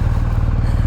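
Close and loud, the boxer engine of a 2023 BMW R1250GS Rally motorcycle idles with a rhythmic low thrum and faint clatter, heard alone without voices.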